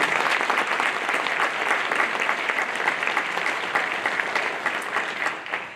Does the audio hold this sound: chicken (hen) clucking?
no